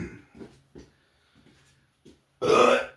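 A person lets out a loud, drawn-out burp at the end of a two-minute warm-up for one-handed lightsaber drills, preceded by short breathy grunts and low vocal sounds.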